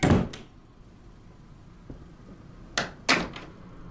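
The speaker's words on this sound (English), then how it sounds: "close the door" Bathroom door closing, a sharp thump at the start followed by a fainter knock and two more close knocks or latch clacks, heard nearby in a quiet room without talk.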